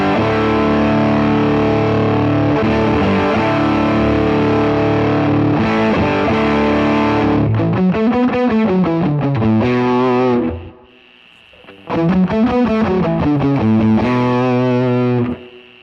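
Electric guitar played through a Cornerstone NERO fuzz pedal with the knob turned fully right, giving thick, saturated sustained chords, then choppy bending riffs, a short near-silent gap and a loud return, with no talking.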